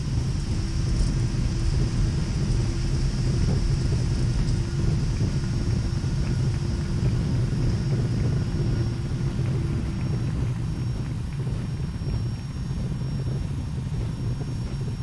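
Thrust reversers on a Boeing 757-300 landing in X-Plane 11, heard as a steady, broad roaring rumble that holds loud throughout and eases slightly near the end.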